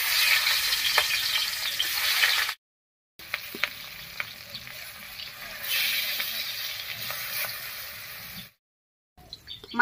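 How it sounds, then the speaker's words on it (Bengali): Rohu fish pieces, rubbed with salt and turmeric, sizzle and spit in hot mustard oil with bright crackling, occasional scrapes and pops, briefly dropping out twice, no talking. "মাছটা ভাজা হতে থাক"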